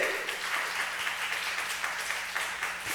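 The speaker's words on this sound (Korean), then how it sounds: "우리 한번 박수 한번 쳐드립시다" A church congregation applauds steadily during a sermon, a dense wash of clapping at moderate volume that carries on throughout.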